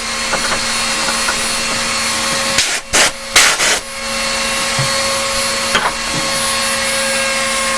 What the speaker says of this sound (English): Alright, so let me blow that off.